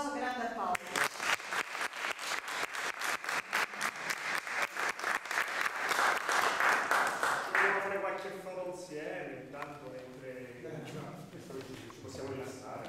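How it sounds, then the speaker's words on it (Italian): An audience gives sustained applause as a tribute at a gathering, with loud, rhythmic clapping building for several seconds and then thinning to scattered claps while voices begin talking over it. "Un applauso grande a Paolo."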